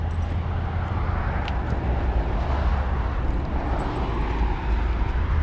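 A jet aircraft passing overhead outdoors, a steady broad roar of even loudness throughout, heard alone without talk.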